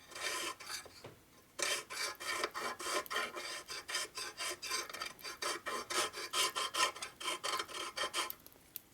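A metal file rasps rhythmically across an aluminum engine case from a 1977 Harley Sportster Ironhead rebuild, with a quick, even series of close, gritty strokes after a brief pause.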